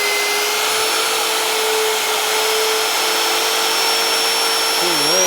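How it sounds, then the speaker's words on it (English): An electric drill cuts into a steel beam a little over half an inch thick, giving a steady, loud whining drone that holds without a break throughout. "with the drill."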